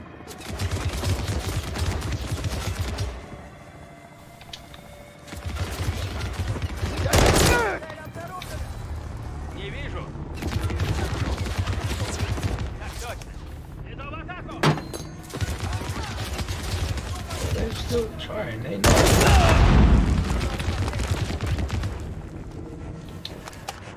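Gunfire in Call of Duty Modern Warfare 3, with repeated bursts and single shots across the clip, two louder heavy blasts standing out, all under a steady layer of game noise and voices.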